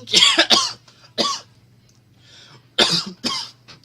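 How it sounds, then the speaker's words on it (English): Several harsh coughs come close to the microphone in two clusters, a pair and a single cough, then a quiet pause and another pair, with some throat-clearing between and a low hum in the background. "Excuse me for my cough there."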